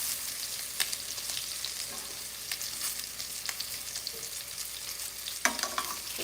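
Panko-crusted rack of lamb sears in a hot pan, giving a steady close sizzle and crackle with scattered sharp pops and a brief scrape near the end, without any talking.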